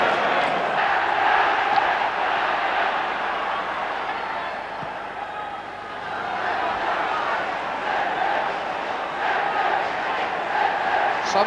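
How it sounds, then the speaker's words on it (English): A packed football stadium crowd roars in a sustained cheer at a Manchester City versus Manchester United league match in 1971, loud and continuous throughout with a slight dip midway. "And a big cheer for Joe Corrigan's first touch."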